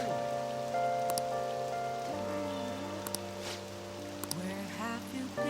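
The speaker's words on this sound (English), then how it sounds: "It's raining." Steady patter of rain over the Persona 5 Royal game soundtrack with sustained musical tones and a few brief sound effects.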